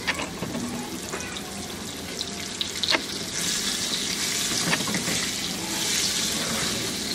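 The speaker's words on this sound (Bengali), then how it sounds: "এখন এই পটলগুলো দিয়ে একটু ভেজে নিয়ে থাকি" Pointed gourd pieces fry in hot oil with turmeric, a steady hissing sizzle that swells louder in the second half, with a few utensil clinks close by and no voices.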